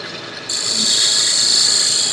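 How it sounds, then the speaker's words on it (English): Detail gouge cutting a groove in a spinning wooden lidded box on a lathe, a loud, steady high-pitched hiss and whine that starts abruptly as the tool engages and holds steady, close by. "use a detail gouge just to clean up this groove right here"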